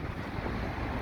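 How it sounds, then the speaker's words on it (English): Wind buffets a microphone on the Blackpool promenade on a freezing December day with high waves, a dense, steady low roar that fills the whole moment with no voices. "it could be very difficult with the wind noise"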